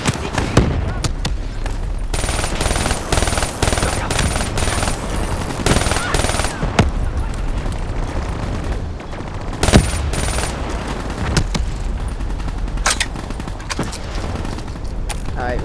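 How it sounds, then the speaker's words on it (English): An automatic burst bio gun fires in Call of Duty Black Ops 3: rapid, dense gunfire with repeated sharp cracks and bursts over continuous game noise and music, loud and close, with a voice talking over parts of it. "It's an automatic burst bio gun."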